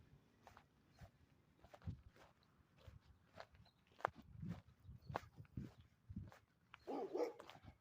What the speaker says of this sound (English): Got some dogs barking